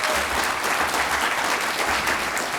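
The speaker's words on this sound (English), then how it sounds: "Round of applause for Miss Julia." At a homecoming celebration for Miss Louisiana 2021, a crowd claps loudly and continuously, giving a full, even wash of applause with no talk.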